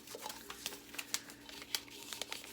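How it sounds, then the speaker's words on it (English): A paper label is peeled off an old tomato can, making soft, scattered tearing and crinkling noises, fairly quiet and close, with no talk. "it would be cool maybe to hear what it sounds like if we took the paper off of this"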